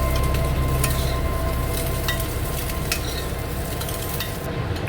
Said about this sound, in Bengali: এখানে দুটো ডিম নিয়েছি, একটু নুন আর গোলমরিচ গুঁড়ো দিয়ে ভুজিয়া বানিয়ে নেব